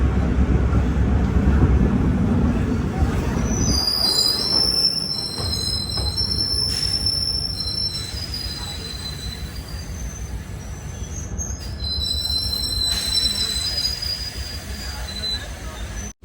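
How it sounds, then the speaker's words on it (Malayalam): DEMU train pulling out of Agartala station, its wheels squealing in high, shifting tones over a steady low rumble of the diesel multiple unit rolling along the rails. "കറക്റ്റ് 10:50 തന്നെ ട്രെയിൻ എടുത്തിരിക്കുകയാണ്."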